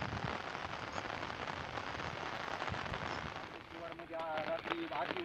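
Heavy rain falls in Partur taluka, Jalna, during flooding, as a dense, steady hiss of downpour close by, with a voice briefly audible near the end.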